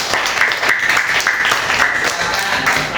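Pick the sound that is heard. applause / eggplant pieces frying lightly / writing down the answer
applause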